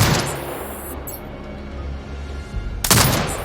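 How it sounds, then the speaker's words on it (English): A turret fires in the video game Sniper Ghost Warrior Contracts 2, with a rumbling, echoing barrage followed by a sharp, loud burst of shots near the end, and no talking. "Exit binocular mode and command the turret to fire."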